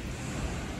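Strong typhoon wind roars in a steady, loud rumble with deep low buffeting close to the microphone, unbroken, with no voices.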